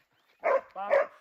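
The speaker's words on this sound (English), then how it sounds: "The dog's familiar barks echoed as another hog poked out." A hunting dog barks twice in quick succession during a wild boar hunt, close and fairly loud, with nothing else around it.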